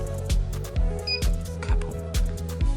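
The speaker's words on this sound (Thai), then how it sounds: "ต่อมาบีฟตรงนี้คือเสียงปุ่มกดครับ" A short electronic beep from a button on a DW-650 meter, set among a steady series of regular clicks.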